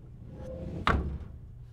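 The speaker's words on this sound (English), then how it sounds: "We've got a nice clunk, we've got some sub, and we've got some kind of interesting texture from this metal creaky thing." Layered sound-effect hit built from a clunk, a deep sub thump and a creaky metal texture, landing as one sharp, loud impact that rings and thins out over about a second above a low background rumble.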